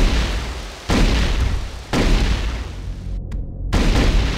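A plasma rifle fires in a competitively tuned first-person shooter, giving three heavy, booming discharges about a second apart. Each is loud and close, with a brief gap of near silence before the last shot.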